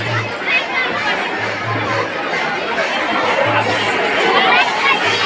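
A dense crowd of devotees at the Mini Ranuja temple, a loud continuous babble of many voices with occasional shouts, close and unbroken.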